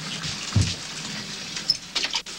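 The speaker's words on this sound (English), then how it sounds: "Let me turn the water off." Water pours from a tap into a bathtub, a steady rushing hiss with a few brief splashes and knocks, close and alone without talk.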